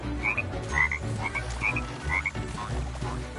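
A frog in the Lego Party video game croaks in a repeating series of short, bright, chirpy calls, about five or six in quick succession over a low musical backdrop.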